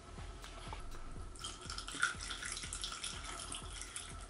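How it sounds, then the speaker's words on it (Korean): Tap water poured through a funnel into a waterproof cooling mat, a steady trickling flow with soft irregular splashes and gurgles running throughout. "수돗물을 바로 주입해도 되지만 깔때기를 이용해서 하면 좀더 편하게 주입이 가능합니다."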